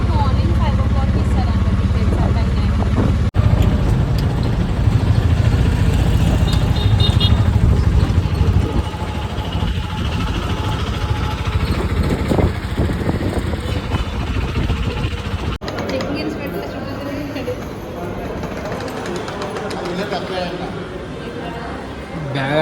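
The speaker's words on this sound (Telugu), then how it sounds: "ఇప్పుడే ఆటోలో ఎక్కినాం, పోతున్నాం అనమాట." An auto rickshaw engine runs steadily through a ride, a loud continuous low rumble with road noise, while people talk over it now and then.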